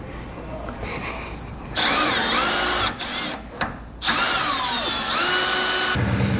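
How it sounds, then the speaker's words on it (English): A power drill bores a pilot hole through the steel frame of a Ford F150 pickup while a Demco Autoslide 5th wheel hitch is mounted. The drill whines loudly in two long bursts separated by short pauses. "pilot hole drilled, again, we're going to skip up a couple bits, bigger sizes."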